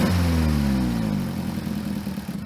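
A 2008 Opel Astra engine idles with a misfire, a loud close rumble with harmonic tones that sink steadily before settling into an uneven, lumpy idle.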